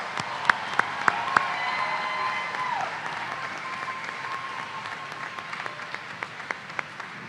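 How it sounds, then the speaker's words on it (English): Applause at a Washburn Tech spring commencement ceremony for the graduates: steady, diffuse clapping from a large crowd across the whole stretch, with a few sharper nearby claps standing out early and late. "Please join me in recognizing these impressive individuals for their accomplishments by offering a round of applause."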